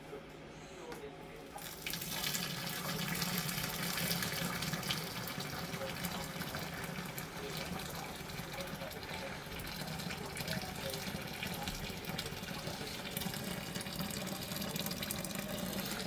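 Hot brewed hop liquid pours from a pan through a strainer in a home kitchen while brewing a Coopers real ale, a steady continuous trickling and gushing of water running for the whole stretch, with faint background voices.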